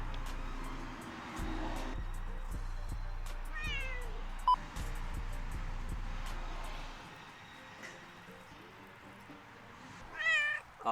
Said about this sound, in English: I hear meowing.